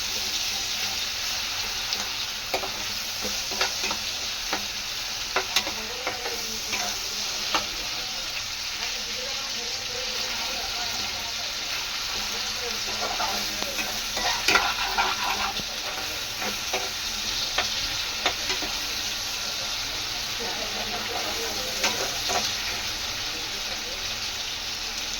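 Ginger garlic paste sizzles and fries in a pan for a Kokani-style fresh cashew sabzi, a faint steady crackle with scattered soft scraping stir strokes throughout.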